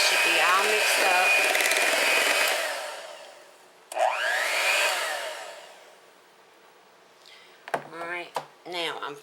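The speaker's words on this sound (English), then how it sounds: "Now I'm finished with the mixer." An electric hand mixer whirs loudly through banana nut bread batter, winding down, then restarting in a brief second burst before switching off, followed by a voice speaking.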